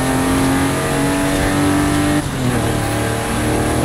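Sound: 1953 Corvette engine in video game Forza Horizon 5

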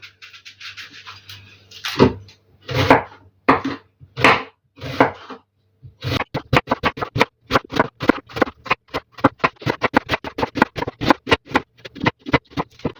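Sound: knife slicing onion on board

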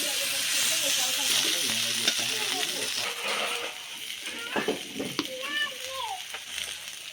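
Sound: taro (kochu) pieces frying in a pan after fish

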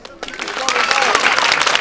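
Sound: applause

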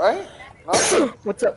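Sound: sneeze

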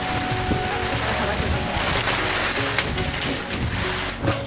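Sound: rain falling during a storm

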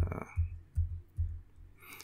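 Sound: typing a netstat command on a computer keyboard

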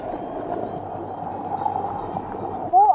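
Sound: jet ski idling and floating on water

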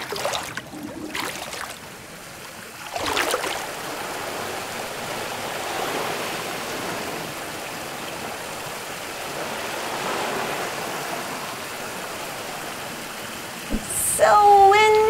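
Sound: flowing water stream

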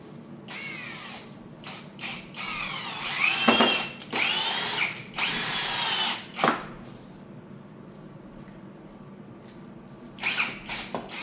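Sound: power drill driving screws into wooden bed legs

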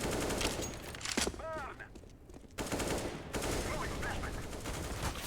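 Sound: gunfire in a shooter video game

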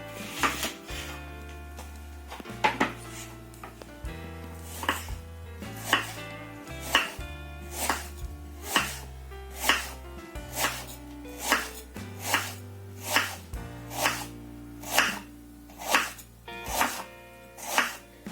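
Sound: chopping onion into half rings

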